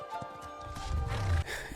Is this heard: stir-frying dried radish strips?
no